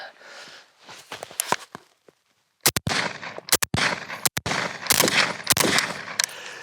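An FN FAL rifle with a heavy bolt fires in a string of sharp, loud, close shots, single and in quick pairs, with a brief silent gap between bursts.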